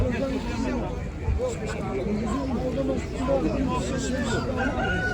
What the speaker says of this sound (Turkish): koca olan yani damızlık bir horoz var